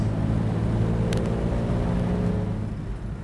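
Vintage car with a flathead engine driving, a steady low engine drone with harmonic hum and a brief clatter midway, easing slightly toward the end, no one speaking.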